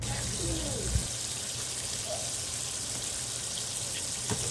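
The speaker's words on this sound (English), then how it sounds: "After flipping the steaks and getting a good sear on the other side, he adds about a tablespoon of butter to the pan" Steaks searing in a pan with a tablespoon of unsalted butter added: a steady, close hiss and crackle of frying with a few small pops and no break in the sizzle.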